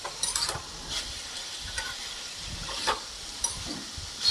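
Fried peanuts and potatoes being stirred into dhenki shaak in a hot pan, a steady sizzling hiss broken by soft scraping strokes of the spoon, close and continuous with no voices.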